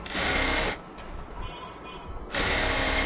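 A sewing machine stitches a half-inch hem along the top edge of a baby palazzo, running in a dense buzzing burst, stopping for over a second, then starting up again, loud and close with no talk.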